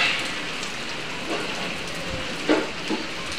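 Heavy rain pours steadily as a dense, constant hiss, with a few louder splashes and drips breaking through near the end.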